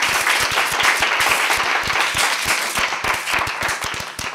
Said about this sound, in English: we should probably give them a big round of applause